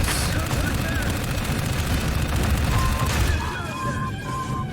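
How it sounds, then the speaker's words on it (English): Grenade blasts in the game Dark Void erupt amid thick gunfire, a loud, dense, continuous rumble of booms and rapid shots that fades slightly toward the end, with a voice faintly under the din. "Grenades work wonders"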